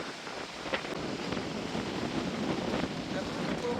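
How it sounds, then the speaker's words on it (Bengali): Strong wind roars and buffets the microphone continuously during a storm with rain in the Kerala hills, a rushing, stormy texture with no clear pauses. "দেখো কতটা পরিমাণে ঝড় আছে এখন"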